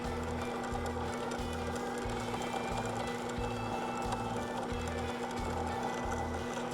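An SC125 linewinder spooling fishing line onto a reel, a steady mechanical whir with a regular pulsing, chugging rhythm, close and continuous throughout.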